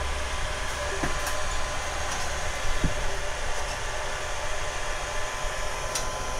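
A Genmitsu Z5-1 galvo laser machine runs after being powered on, giving a steady, even, fan-like whir with a few faint clicks.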